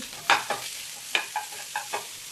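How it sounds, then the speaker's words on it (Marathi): Garlic, onion, chopped carrot, capsicum and cabbage stir-fry in hot oil for gravy Manchurian, with a steady sizzle broken by several sharp tossing and stirring bursts, close and clear with no talking. "तेल गरम झाले की त्यामध्ये लसूण टाकूया, कांदा, बारीक चॉप केलेलं गाजर, शिमला मिरची, कोबी"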